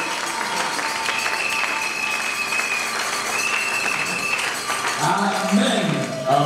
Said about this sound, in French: Nous n'allons pas nous lasser de l'applaudir